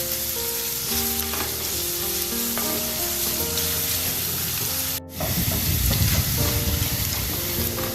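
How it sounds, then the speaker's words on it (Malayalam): Chili powder and onions fry in a hot pan for a Kerala tuna curry, a loud, close, continuous sizzle with stirring scrapes and a brief gap before the frying surges again. "എന്നിട്ട് നമുക്ക് മുളക് പൊടി ഇടാം."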